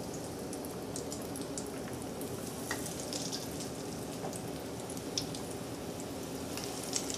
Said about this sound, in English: And now for the next step, we fry them. Ever so gently.